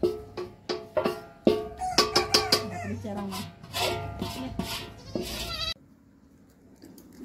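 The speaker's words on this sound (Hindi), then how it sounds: "सब बकरियाँ एक साथ चर रही है" Goats bleat repeatedly while grazing together in a field, several close calls in quick succession with a faint voice among them, then a near-silent pause at the end.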